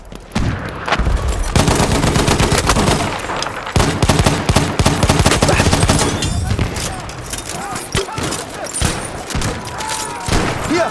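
Bursts of rapid machine gun fire in a Battlefield 1 conquest match in the Argonne forest, loud and close, with dense repeated shots, some gaps and distant battle noise, and brief voices.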